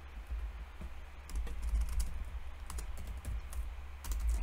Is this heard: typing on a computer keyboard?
yes